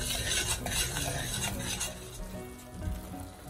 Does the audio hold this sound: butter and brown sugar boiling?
yes